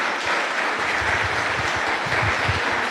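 Congregation applause for God during a Spanish-language church sermon, a steady dense wash of many hands clapping together throughout, loud and fairly close, with no talk over it.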